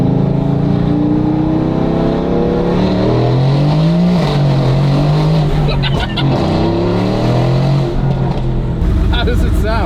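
A heavily modified Mercedes-AMG, built to roughly 1200 horsepower and fitted with a new exhaust, revs loudly and close, its pitch rising and falling through several sweeps with sharp crackles near the end.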